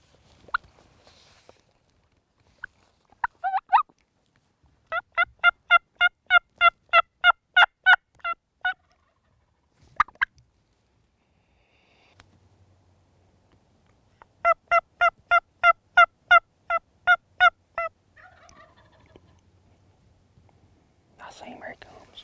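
Two long runs of rapid turkey gobbling ring out from fairly close by, separated by quiet stretches with faint whispered voices and light rustling.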